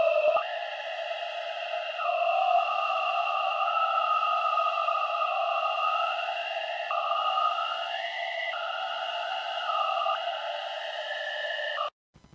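A haunted waterharp horror effect with a vocal-like timbre, made for a forest atmosphere, sustains as an eerie, echoing sonar-like drone whose gliding, stepped tones shift over twelve seconds before abruptly cutting off.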